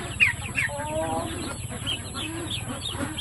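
A brooding Shamo hen clucks in low, steady grumbles from close by, with a few sharper higher calls mixed in among other fowl noise around a farmyard nest.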